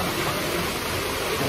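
Hot spring water at the Aia Angek baths in Bukik Gadang Koto Anau pours from a large spout, a loud, close, continuous rushing roar.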